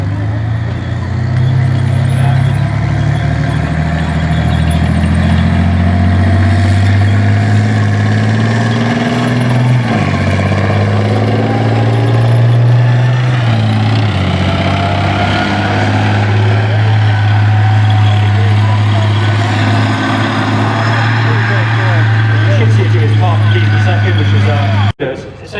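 A 70-ton tank drives around the Tankfest arena at The Tank Museum, its heavy engine giving a loud, steady rumble with clanking tracks throughout, while a person talks over it.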